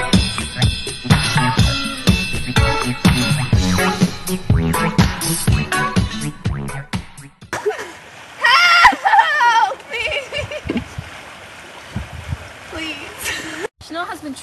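Waist-deep flash flood water splashes and sloshes as someone wades through it, with loud splatters and gurgling beneath a reporter's voice, which gives way to music later on.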